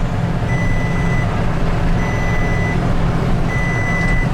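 Truck reversing beeps, three evenly spaced tonal beeps over a loud steady diesel engine rumble outdoors, no talking.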